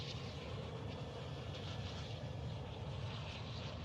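Helicopter engine in a video game: a steady, low mechanical drone with a faint rotor pulse, even and unbroken throughout, with no talking.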